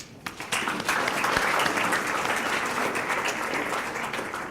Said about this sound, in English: I think she deserves applause